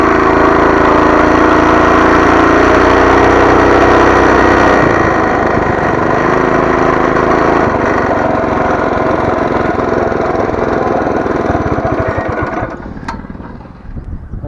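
A modified Coleman BT200X mini bike, its governor removed and fitted with a header and torque converter, roars at full throttle, loud and close, then the engine note drops and fades as the bike slows toward the end.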